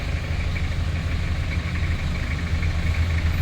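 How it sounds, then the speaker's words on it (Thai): A used Nissan Big-M pickup truck sits with its engine idling, a steady low rumble held at an even level throughout, close by with no speech over it. "โอ้ติดเครื่องอยู่ แต่เสียงนิ่มนะติดเครื่องอยู่นะครับ"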